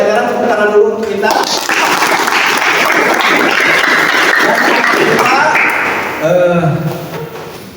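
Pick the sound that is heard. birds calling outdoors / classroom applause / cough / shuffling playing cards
classroom applause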